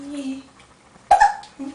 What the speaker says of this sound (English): Oh, and the hiccups.